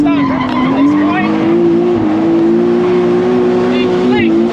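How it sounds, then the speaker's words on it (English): Tires squeal in a long, continuous, loud screech as a car drifts at a drift competition, with its engine droning steadily underneath. "And then really start drifting from this point."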